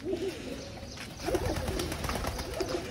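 Pigeons coo repeatedly in soft, low bursts, close by, over a steady background of rustling and outdoor noise.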